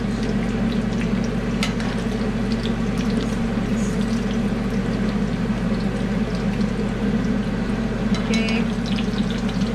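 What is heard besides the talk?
tortilla frying in oil for green sauce enchiladas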